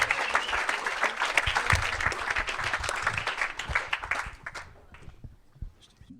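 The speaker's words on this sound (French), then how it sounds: "un tonnerre d'applaudissements encore une fois pour Charlie Aubert" An audience applauds the speaker Charlie Aubert at the start of a talk, a dense sustained wash of clapping that thins out and fades toward silence near the end, with no voices over it.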